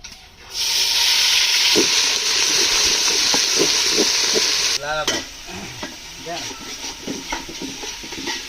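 Dal frying on a stove with cardamom, cinnamon, bay leaf, ginger, garlic, onion and cumin paste for khichuri, a loud continuous hiss of sizzling with stirring scrapes, then quieter sizzling as someone briefly talks.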